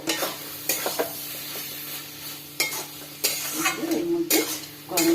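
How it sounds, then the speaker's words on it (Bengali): Coconut being stirred into a banana flower curry in a pan, with repeated scraping strokes over a steady sizzle and occasional utensil clinks against the pan, close and fairly loud. "নারকেলটা দিয়ে কিছুক্ষণ নাড়াচাড়ার পরে"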